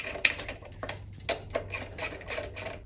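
10mm bolts being removed from the timing belt cover of a 2.2L Toyota Camry, quick bursts of ratchet clicking with small metallic ticks, close and fairly quiet, no talking.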